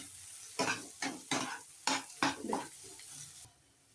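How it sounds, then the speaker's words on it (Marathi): South Indian style potato bhaji with a spoonful of ghee and coriander is stirred in a pan: about six distinct scraping strokes over a light sizzle, then the stirring stops. "छान सगळं मिक्स करून 1-2 मिनिटं परतून घेऊया।"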